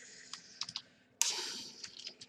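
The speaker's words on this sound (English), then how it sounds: "all the basic stuff I am typing here" Keys clack on a computer keyboard in short irregular bursts, close and fairly quiet, with a denser run of keystrokes midway.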